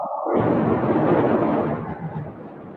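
An explosion at a fireworks factory in Beirut begins with a sudden heavy boom. A loud, rumbling roar follows for about two seconds and then slowly fades, with no talk heard.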